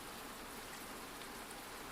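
Soft, steady rain falls in a constant gentle hiss with no distinct drops, faint and even throughout, heard alone without any voices.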